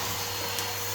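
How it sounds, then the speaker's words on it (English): A vacuum cleaner fitted with a brush attachment drones steadily and close up while sucking loose dust and debris off a solid wall being patched, a continuous broadband whoosh with no pauses. "take a vacuum cleaner. This one's great because it's got a brush attachment."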